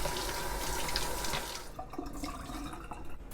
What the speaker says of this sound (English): I'm washing about a pound of fresh radishes